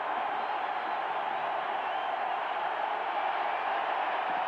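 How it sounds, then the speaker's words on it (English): A noisy stadium crowd at a 1986 UCLA at Washington college football game, giving a steady, continuous roar that holds throughout at a fairly even level. "Oh, this crowd can really get noisy."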